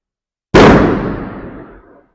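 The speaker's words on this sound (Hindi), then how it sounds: "पटाखे भी छूटने लगे चांद के निकलते ही" A single loud firecracker bursts sharply at night during Karwa Chauth moonrise, its crack decaying over about a second and a half.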